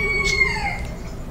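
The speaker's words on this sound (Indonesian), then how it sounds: "Itu ayam." Rooster crowing in a warehouse-like space, a single drawn-out call with a wavering, trembling end, close and clear over a low background hum.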